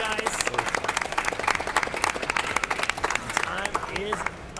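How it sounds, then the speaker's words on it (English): Applause and scattered clapping rise from the audience for builders at a LEGO building competition, uneven bursts mixed with chatter and voices talking over the crowd. "Let's get a general round of applause for our builders"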